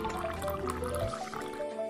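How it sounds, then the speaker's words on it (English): Ice and water pour into a bowl for an ice bath, a close liquid fill with trickling, dripping and faint clinks, moderately quiet and continuous. "we'll fill up the bowl with ice and water to make an ice bath."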